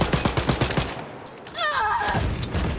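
Gunfire and explosions in the Wolfenstein: Youngblood video game: a rapid burst of loud shots, a brief lull, then further blasts and a sweeping whoosh.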